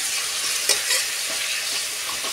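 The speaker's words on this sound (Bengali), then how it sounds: "এখানে হচ্ছে বেগুন ভাজা" Eggplant slices fry in a pan with a steady, broad sizzle, and a few soft scraping stirs of a utensil come through the hiss, close and continuous with no voices.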